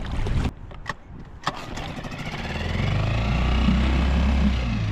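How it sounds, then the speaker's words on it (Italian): Small Suzuki outboard motor on a boat, a few clicks and short cranking pulls, then the engine catches and settles into a steady rising drone close by. "Poi accendiamo il Suzukino."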